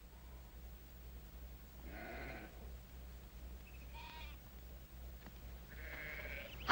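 A flock of sheep bleats while being driven, several separate bleats from different animals rising over a quiet low hum, fairly distant and faint.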